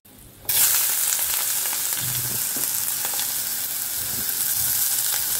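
Food hitting a hot wok of fish oil with onion and garlic, bursting into a loud sizzle after a brief quiet moment, then holding a steady, close frying hiss.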